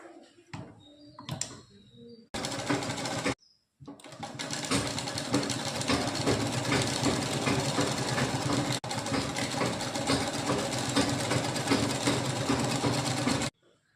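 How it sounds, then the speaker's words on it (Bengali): An electric sewing machine stitching a fall onto a saree runs in a fast, steady mechanical whir for about ten seconds after a few short starts, close and clear with no talking. "পুরো শাড়ি পাড়টা আমি মেশিনে বসাবো।"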